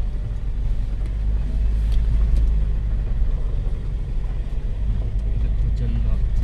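An SUV, a Scorpio, drives through Tamor Pingla wildlife sanctuary in Chhattisgarh, giving a loud, steady low engine and road rumble heard from inside the vehicle, with a voice talking over it.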